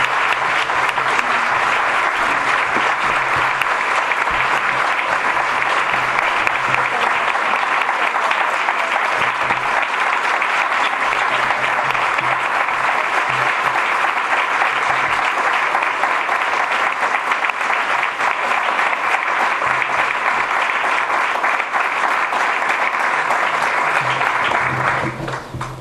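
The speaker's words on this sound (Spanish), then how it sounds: "Les pido a todos ustedes un aplauso para este merecido premio" At an award gala, a large audience claps in one loud, even, continuous roar of applause that barely fades before stopping at the end.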